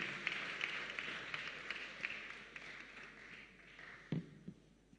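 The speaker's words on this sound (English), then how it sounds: "Please let's clap for Keta" Audience at a national business pitch competition clapping for a contestant, a fairly quiet, steady spread of hand claps with a couple of sharper taps near the end.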